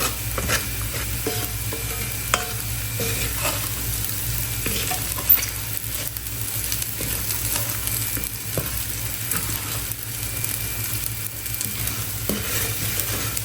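Rice toasting in a hot pan for paper bag fried rice, sizzling steadily with a constant frying hiss and occasional stirring scrapes and clicks across the whole stretch, no talking.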